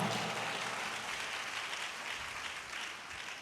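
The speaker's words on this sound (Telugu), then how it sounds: "అందరూ సంతోషంగా చప్పట్లు కొట్టి దేవుడు మహిమపడదాం" A church congregation claps together during a service, producing a steady, dense wash of applause that holds at an even, moderate level throughout, with no one talking over it.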